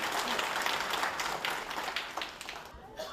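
Audience applause at a cooperative-sector meeting attended by a minister in Gujarat, a steady, close wash of many hands clapping that eases slightly toward the end.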